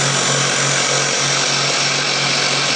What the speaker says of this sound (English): So lathe going fairly fast, and I'm just using a skew chisel just as a scraper